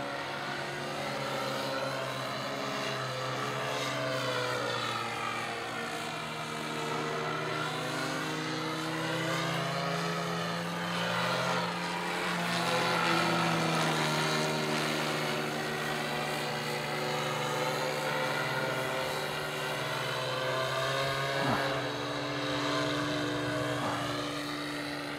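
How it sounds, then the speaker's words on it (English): RC model 3D aerobatic plane with a propeller engine flying at an RC club field, a continuous buzzing engine whose pitch rises and falls as it maneuvers, fairly loud and steady throughout. "Very 3D acrobatic plane."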